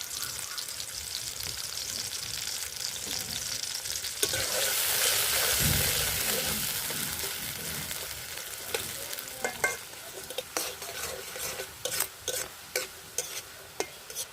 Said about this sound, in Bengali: এখন গাজরগুলো ভেজে নেব।